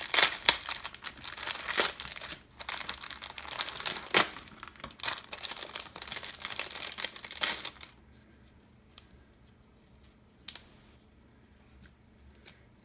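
Crinkly packaging is handled and pulled open around crepe paper chipboard frames, a dense run of close crackling and rustling for about eight seconds, then quiet with a single sharp crinkle near the end.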